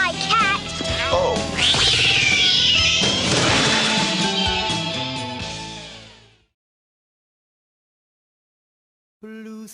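A cat in the 1991 film Suburban Commando yowls and meows in wavering cries amid loud crashes and smacking hits, with a busy soundtrack underneath, before everything cuts to silence.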